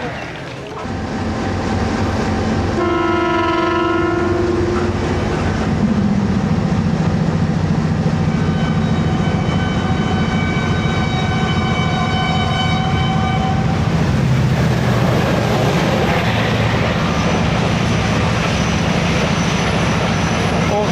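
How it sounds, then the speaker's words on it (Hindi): The locomotive of the Allama Iqbal Express sounds its departure whistle at Okara station: several loud, sustained horn blasts over the heavy rumble of the idling diesel engine, with voices around it. "सीधा चलते हैं लोकोमोटिव के पास, ताकि जो इसकी डिपार्चर विसल है वो कैप्चर कर सकें"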